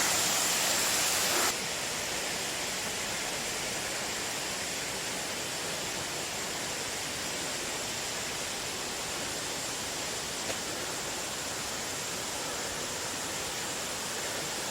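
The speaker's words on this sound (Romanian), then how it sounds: "Am plecat la vreo 15 km de Sapa la Silver Waterfall, o cascadă minunată." Silver Waterfall near Sapa, Vietnam, rushes in a constant, full roar of falling water, steady and close with no voices.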